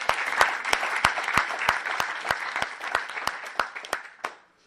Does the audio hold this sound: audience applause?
yes